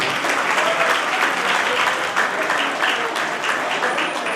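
An audience at an evening poetry gathering, a national Arya event, claps steadily throughout, a dense, even wash of applause with no pauses and no clear voices over it.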